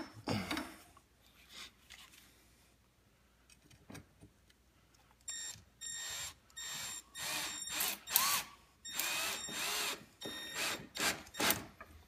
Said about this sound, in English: this trim screw going in like that is going to fix that